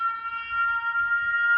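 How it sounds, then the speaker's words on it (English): Sirens in a Spore video game trailer hold a steady, sustained electronic tone, clear and unbroken over a faint low rumble throughout the short stretch. "the sirens are going on."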